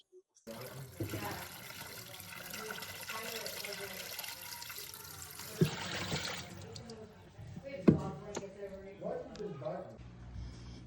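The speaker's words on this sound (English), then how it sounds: "now it's draining all the dirty water, cleaning up the mop pads" The base station of a Dreame X40 Ultra robot vacuum drains dirty water from its mop pads, giving a close gurgling, trickling flow that ends in a few sharp clunks.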